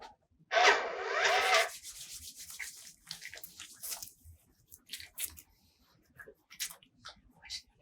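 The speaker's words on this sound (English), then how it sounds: "And I'll wash my hands." Hands being washed and rubbed together before a blood sugar test, a loud close wet scrubbing burst lasting about a second, followed by softer intermittent rubbing and splashing sounds.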